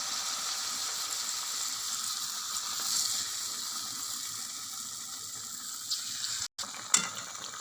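Palm-fruit malpua batter frying in hot oil, a steady, close crackling sizzle that holds evenly throughout with no voices.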